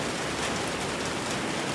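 Steady rain patters on a gazebo roof during a fishing trip outdoors, a continuous dense hiss of drops filling the whole moment with no voices.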